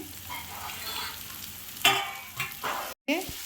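Finely chopped carrots and beans sizzle steadily in a pan while being stirred, with a few louder scraping strokes and a brief gap near the end.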